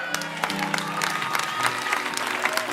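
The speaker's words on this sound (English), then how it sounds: "And the church, a Christian church, is clapping." A Christian church congregation claps together in a dense, lively burst of applause, with voices mixed into the sound of the crowd.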